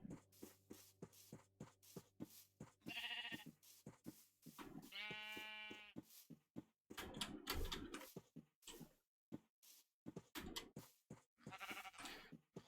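Sheep in the Minecraft video game bleat repeatedly in short wavering calls of varying length, a few overlapping, with gaps between them and no voices.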